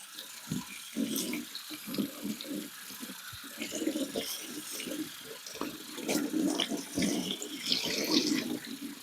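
Cold tap water runs steadily over yarn dyed with a Rit dye and Lion Brand kit, a close, continuous splashing and gurgling into the sink with no talk over it.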